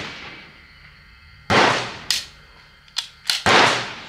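Sharp rifle shots from a Vudoo or CZ rimfire rifle crack close by, a loud report followed by several quicker bursts spaced unevenly across a few seconds.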